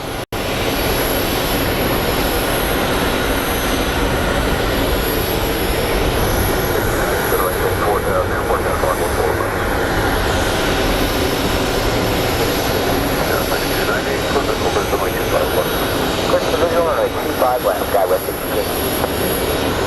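An MD-11 airliner lands at Phoenix Sky Harbor airport, its engine roar loud and continuous for the full twenty seconds as it passes close by.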